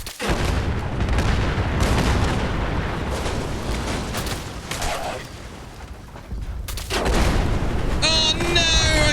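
Explosions go off in the video game Fallout 76, heavy booming blasts rumbling one after another, loud and close, with a sharp crackling burst near the end.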